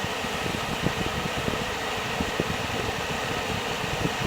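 A hair dryer on its low setting blows over a damp guinea pig, a steady, close, rushing whoosh of air that holds an even level without pauses.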